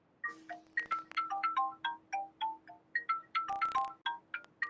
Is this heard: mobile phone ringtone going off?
yes